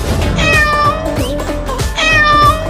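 A cat meows loudly and close by in a few drawn-out, wavering calls, with a short pause between them.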